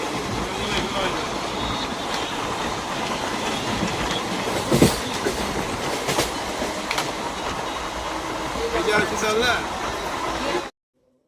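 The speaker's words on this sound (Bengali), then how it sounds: "ফাইনালি আমাদের ট্রেন আসলো, আর ট্রেনে উঠে বসে গেছি।" Passenger train running on its rails, heard from on board: a loud, steady rumble with rhythmic clickety-clack of the wheels and occasional sharp squeals, continuing for about ten seconds with background chatter before cutting off abruptly.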